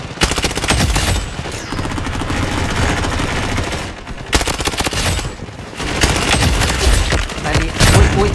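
Gunfire in the shooter game Blood Strike: loud, dense, rapid automatic bursts that continue almost without a break, with short pauses between volleys.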